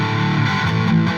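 Electric guitar played through the UK high gain amp model of a Vox VT20X modeling amp, a thick, saturated distorted tone ringing continuously and loud for about a second with no talking.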